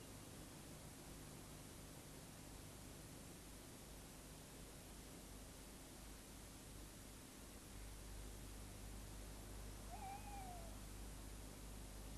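Tawny owls in an autumn woodland, staking out territories: a single faint, wavering hoot rises late in the clip, distant and brief, against a steady hiss of background noise.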